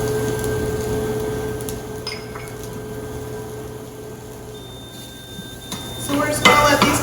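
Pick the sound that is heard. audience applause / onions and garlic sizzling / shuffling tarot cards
onions and garlic sizzling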